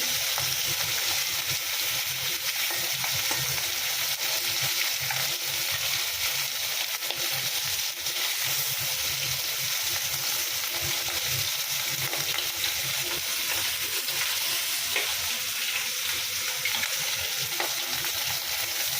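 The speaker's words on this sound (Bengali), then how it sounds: "মাছগুলো ভাজা হয়ে যাচ্ছে।" Magur catfish fry in oil in a pan, a steady, dense sizzle and crackle that runs unbroken and close for the whole stretch, with occasional soft stirring sounds and no talk.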